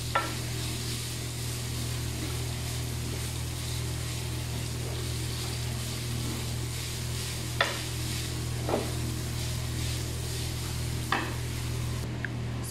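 Rice frying and being stirred in a pan for fried rice, a steady close sizzle with scattered scraping clicks from the stirring, continuous and even throughout without talk.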